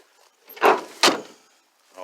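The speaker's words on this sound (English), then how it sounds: "Oh, did you hear that? Door shut?" Car doors on a 1976 Chevy Vega or 1962 Buick LeSabre shutting: two solid thumps about half a second apart, fairly close, followed by quiet, with a voice starting at the end.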